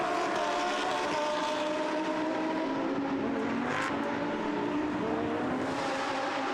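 Lamborghini Super Trofeo race cars at Monza howl past in a dense, continuous high-pitched engine roar, with a brief louder surge as one passes close, no talk heard.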